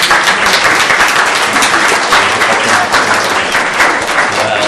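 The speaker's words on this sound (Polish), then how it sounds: "Ogromne brawa." Loud, dense applause from an audience at a karting season awards ceremony, many hands clapping steadily and close without pause, with faint background murmur underneath.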